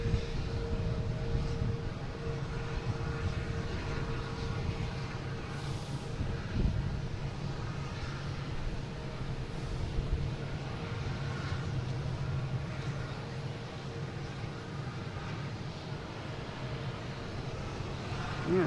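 An Avianca airliner bound for San Salvador departing Boston Logan International Airport, a distant, steady jet roar rising and lingering at low volume across the whole stretch, with no talking.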